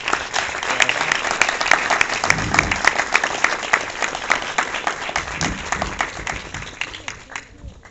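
A film-festival audience at the Bafici 2013 screening applauds an executive producer, dense sustained clapping with crowd noise that gradually thins and fades toward the end.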